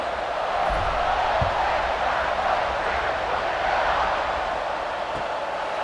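Dense, steady roar of a stadium crowd in EA Sports College Football 26, a continuous cheering wash with no distinct peaks, filling the background at moderate loudness.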